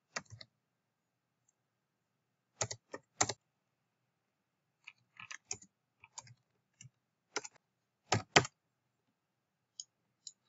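Computer mouse clicks while running a chi-square test and mosaic plot in R, heard as sparse, sharp, close clicks, single and in quick pairs, scattered across a quiet background.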